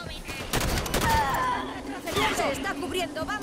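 Rapid bursts of gunfire from the Halo 5: Guardians video game fill the scene, with dense overlapping volleys and a talking voice running underneath.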